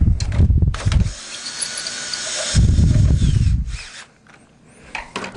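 Hand tightening of a coaxial cable connector during a premises installation: close, rough ratcheting and rubbing bursts with mechanical scraping, two main bouts separated by a brief pause, no talk.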